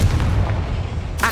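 A Confringo blasting spell explodes in Hogwarts Legacy, producing a single short, heavy boom with a rumbling low tail and a brief crackle at the end.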